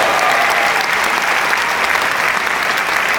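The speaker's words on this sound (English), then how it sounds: "Give a round of applause to everybody's on this stage." Loud, sustained audience applause fills a tour stage event, a thick, continuous roar of many hands clapping at an even level from start to finish, with faint crowd voices mixed in.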